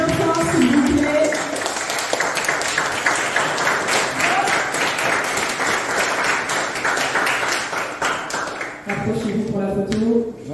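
Sustained crowd applause at a powerlifting meet's award ceremony, dense and fairly loud clapping with voices speaking over it at the beginning and again near the end.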